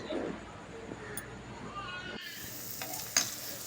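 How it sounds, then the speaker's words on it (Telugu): Onions and green chillies frying on a gas stove for mutton fry, a faint close sizzle with light stirring scrapes and a brief clink near the end. "గ్యాస్ మీద పెట్టుకుని ఉల్లిపాయలు పచ్చిమిరపకాయలు బాగా దోరగా వేయించుకోవాలి"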